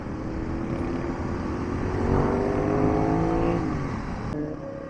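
A group of Royal Enfield motorcycles rides past on the Tamhini Ghat road, a continuous engine drone that swells louder midway and then eases off, with no voices.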